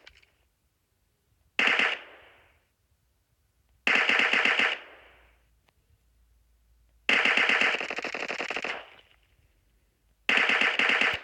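Four bursts of rapid automatic gunfire from a mobile shooter video game, each a dense rattling volley lasting about a second or two, separated by near silence.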